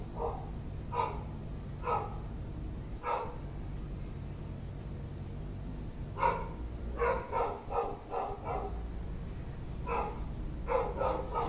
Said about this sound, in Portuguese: Esse cachorro do nada fica louco, né, mano?